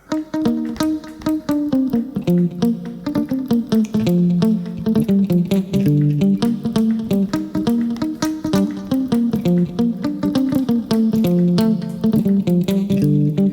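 Muted, choppy rhythmic guitar strumming in a funky cocotte style, a steady stream of short percussive chord scratches over a fuller backing, loud and continuous.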